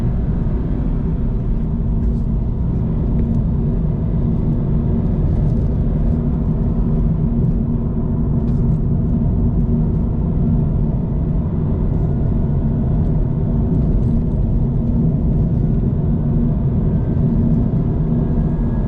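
A 2025 Toyota GR86 sports car drives along with a steady, loud low engine and road rumble that holds evenly throughout, with no voices.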